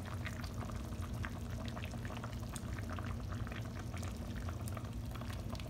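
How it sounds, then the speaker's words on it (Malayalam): Ground roasted-coconut paste poured into a simmering chicken curry, a faint, continuous bubbling and liquid pour in a home kitchen, steady and close with no talk. "അപ്പോൾ ഞാൻ ഈ ചിക്കനിലോട്ട് നമ്മുടെ ആ മിക്സിയോട് ഒഴിക്കാൻ പോവാണ്"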